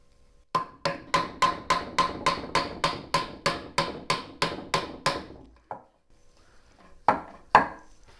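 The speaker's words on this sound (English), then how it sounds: "line up our holes and drive in our dowel." A wooden dowel being hammered into a wooden shave horse, about eighteen sharp, evenly spaced knocks in a quick steady rhythm, close and clear, then a pause and two or three final blows.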